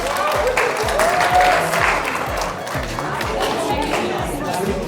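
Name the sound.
audience applause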